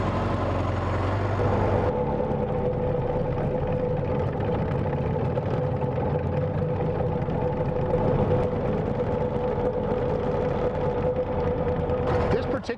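A 1923 Ford Model T Speedster engine runs steadily while driving, a continuous low drone with a sustained mid-range hum holding level throughout, close and loud.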